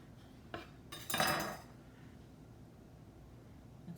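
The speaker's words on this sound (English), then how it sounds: "Cut another slice." A knife cuts a slice from a moist, glazed Jamaican banana bread; soft scraping strokes build to a louder, sustained cut lasting about half a second, with quiet pauses before and after.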